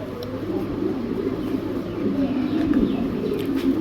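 A pair of Spanish pouter pigeons coo steadily at close range, their deep, continuous burbling rising and falling with faint chirps above it.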